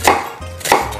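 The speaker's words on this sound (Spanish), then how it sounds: "Y por último vamos a cortar la cebolla," Two sharp knife strokes chop through an onion on a cutting board, close and crisp, a short pause between them.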